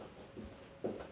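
Pen or pencil scratches on paper while working a class 10 probability maths problem, with a few soft, close strokes and a slightly louder scratch near the end, quiet and alone.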